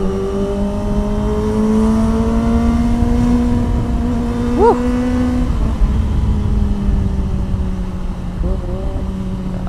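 Car engine pulling away and accelerating on a city road, a steady loud engine drone rising in pitch through the gears, with a brief higher whine partway through and the engine noise continuing throughout.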